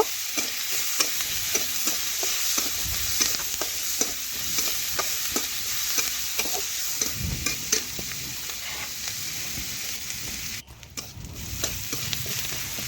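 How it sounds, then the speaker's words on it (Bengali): Onions fry in oil until reddish, a soft, steady sizzle beneath frequent clicks and scrapes of a spoon stirring the pan, fairly quiet overall. "তো সেই তেলে এখন দিয়েছি, এগুলো লাল লাল করে একটু ভেজে নেব।"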